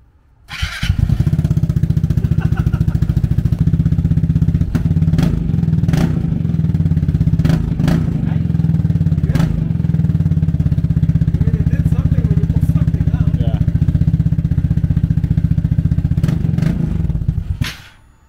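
A Vespa GTV300 scooter with a Termignoni exhaust idles loudly and steadily up close, with several short throttle blips and revs spread across the clip before the engine cuts off at the end.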